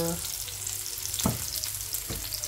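Garlic and onion sauté in a pan for a chicken pancit canton dish, giving a steady close sizzle with a couple of brief stirring scrapes.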